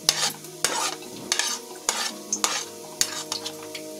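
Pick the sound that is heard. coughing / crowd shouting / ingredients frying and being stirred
ingredients frying and being stirred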